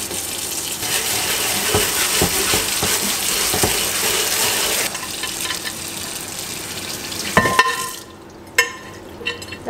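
Soapy scrubbing inside a microwave during an apartment deep clean: steady wet swishing and rubbing with running water for several seconds, then quieter intermittent scrapes and clicks, with no voices.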